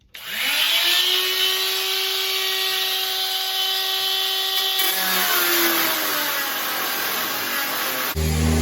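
A power grinder spins up and runs steadily on bodywork of a 1966 Chevrolet Nova, a loud, close, continuous high whine with shifting grinding tone as it bites into the metal, then abruptly cuts off.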